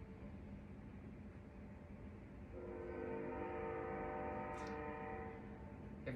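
A train passes at a distance, low rumble swelling as a sustained, layered horn tone sounds for several seconds, faint and steady overall.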